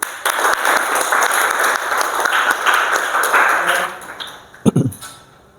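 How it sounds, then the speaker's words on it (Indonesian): Classroom applause from students, a dense patter of clapping that holds steady for about four seconds, then thins into a few scattered last claps. "Beri tepuk tangan dulu."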